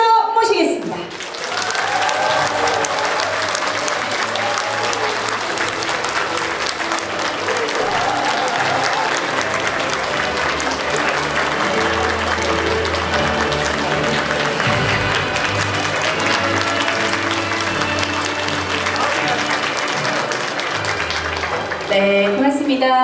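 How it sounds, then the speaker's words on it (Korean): Sustained crowd applause with some cheering welcomes Kang Eun-hee, a preliminary candidate for Daegu superintendent of education, at her campaign office opening, loud and steady throughout with a brief dip near the start. "여러분의 박수로 모시겠습니다."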